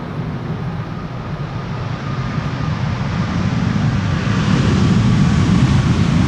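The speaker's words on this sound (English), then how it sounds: "MAX 8 737 arriving from Halifax in Canada." A Boeing 737 MAX 8 arriving from Halifax on approach to land on the Polderbaan, runway 18R at Amsterdam Schiphol, a broad distant jet roar growing steadily louder as it nears, with no talking.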